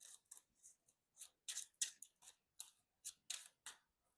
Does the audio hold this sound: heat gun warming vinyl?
no